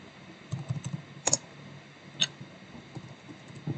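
Typing on a computer keyboard, a few quiet scattered key clicks and taps, close and alone in a quiet room.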